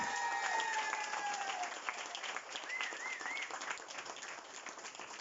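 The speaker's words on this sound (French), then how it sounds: "Applaudissez ce même camarade." A crowd applauds at an En Avant Moris political rally in Mauritius, a dense, steady wash of clapping lasting throughout with faint whistles or cheers near the start, staying loud before tapering slightly at the end.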